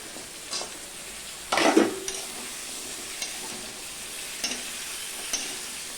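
Drumsticks go into a hot frying pan for dudh shukto, bringing a low continuous sizzle, a louder burst of spatter and scraping as they land, then a few light stirring knocks; no talking.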